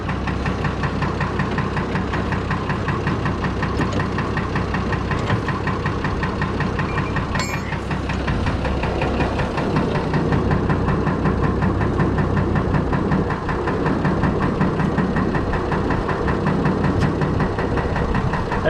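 A Fordson Major tractor fitted with a Perkins straight-six diesel runs close by, its steady knocking idle swelling as the engine revs quickly, continuous and loud throughout with no talking.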